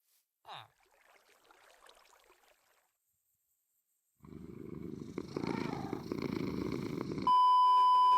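A cat purrs from behind the player in a video game: a low, continuous rumbling purr rises after a short quiet stretch, joined near the end by a steady electronic game tone.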